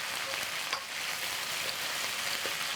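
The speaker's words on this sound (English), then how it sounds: "add the lemongrass, kaffir lime leaf, salam leaf, cinnamon stick. Stir it for 1 minute." Lemongrass, kaffir lime leaf, salam leaf and cinnamon stick sizzling in hot oil for a Balinese chicken curry, a steady close crackling fry with faint stirring scrapes and no talk.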